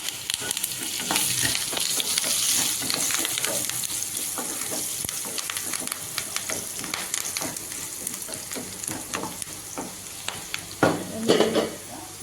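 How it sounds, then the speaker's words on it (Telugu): Onions, green chilies, turmeric and curry leaves fry and sizzle steadily in a pan, with stirring scrapes and occasional utensil clinks throughout, and a louder clatter near the end. "ఎర్రగడ్డలు అయితే ఫ్రై అయ్యాయి కదా, ఎర్రగడ్డలు పచ్చిమిర్చి కొంచెం ఒక చిటికెడు పసుపు వేసుకున్నాము, కొద్దిగా కరివేపాకు,"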